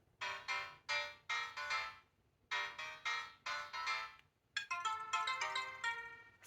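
Dream House ringtone played on a Barbie flip phone: a bright, bouncy synth melody in repeated short phrases with brief pauses, then a denser chiming run at the end, fairly quiet and alone with no talk.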